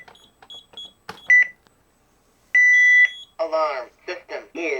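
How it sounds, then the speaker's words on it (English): A CareTaker Plus home alarm system from 1992 sounds a series of electronic beeps calling for disarm, with a few short chirps followed by a longer sustained tone. A person talks between and after the tones. "Now the system is beeping to let you know you need to disarm it"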